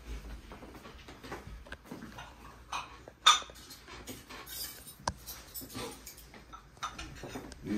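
Plates and cutlery clink and clatter at a home birthday surprise, scattered close rattles with one sharp knock midway, under a low room murmur.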